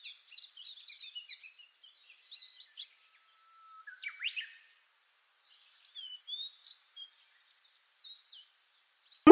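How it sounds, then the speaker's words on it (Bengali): Sparrows nesting at a wooden village house chirp and twitter in short, bright bursts, with clusters of calls and quiet gaps between them, fairly close and alone without talk, ending in a sudden thump. "সো এখানে অনেকগুলা পাখির কলকাকলি শোনা যায়।"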